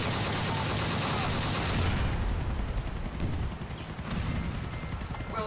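Gunfire in the Grand Theft Auto IV Iron Man mod, a dense, continuous burst of shots and impacts filling the whole stretch, loud and close with game noise layered throughout.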